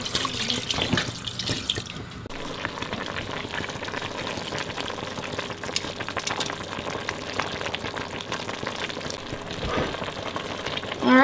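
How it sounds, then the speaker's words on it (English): Water pours steadily into a pot of older collard greens simmering on the stove, a continuous splashing rush lasting several seconds, close and fairly loud with no talking. "I am going to cover them with some more water and continue to simmer them"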